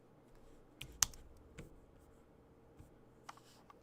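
Typing on a computer keyboard: a few quiet, scattered keystroke clicks, one sharper than the rest, over a faint background hum.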